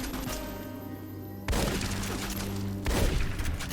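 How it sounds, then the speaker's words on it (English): Shotgun blasts in Fallout: New Vegas: two loud, sharp booms a little over a second apart, each with a short rumbling tail over steady background noise. "Take them out with a shotgun for the most part."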